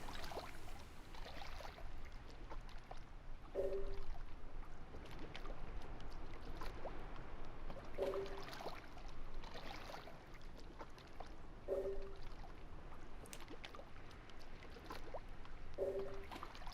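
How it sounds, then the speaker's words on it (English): Water murmurs and trickles steadily in the background of a quiet scene in the video game The Last Remnant. It forms a soft, continuous wash with no voices over it. "the only audio right now is just the sad sound of the water in the background"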